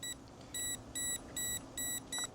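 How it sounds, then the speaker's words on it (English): A self-leveling cross line laser level emits a series of short, evenly spaced electronic beeps, five or six in a row, while self-leveling, over a faint background hiss. "that beeping noise that you hear right there, that is the unit self-leveling"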